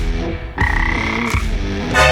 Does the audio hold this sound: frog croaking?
yes